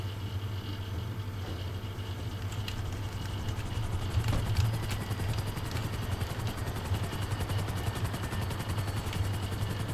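Smoking helicopter in GTA Online's Cayo Perico heist, its rotor and engine thrumming steadily in a low, continuous drone with faint mechanical clatter and a brief louder burst midway.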